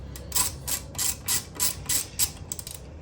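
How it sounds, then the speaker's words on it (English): A hand ratchet tightens the brake pad hanger bolt on the front brakes of a 2020 Harley-Davidson Low Rider S, clicking in about seven quick, evenly spaced bursts. "Then finish tightening up your brake pads bolt."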